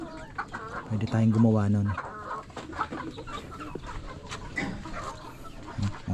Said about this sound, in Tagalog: Mga manok natin okay na.